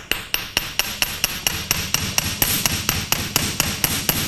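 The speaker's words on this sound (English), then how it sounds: "Here I have my chasing hammer" A small chasing hammer strikes the end of copper wire in a steady, quick rhythm, close and crisp, about four taps per second with no talking.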